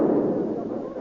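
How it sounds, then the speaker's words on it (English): A gas bomb is thrown in an old-time radio drama, heard as a dense, rumbling burst of noise that holds steady for a second, loud and close. "Throw the gas bomb."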